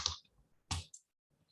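Two sharp mouse clicks on computer software, close and isolated with a short pause between them in a quiet room.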